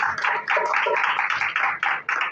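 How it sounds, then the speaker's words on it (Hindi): A church congregation claps at a Sunday service in a quick, steady rhythm of many hands, close and fairly loud, with no one speaking over it. "तालियां खुदावंद के जलाल के लिए।"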